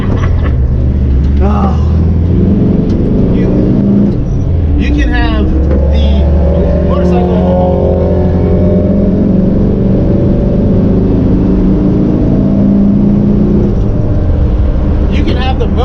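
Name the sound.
1961 Volkswagen manual car engine running and revving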